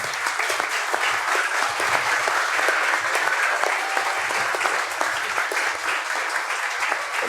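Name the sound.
audience applause for the people who served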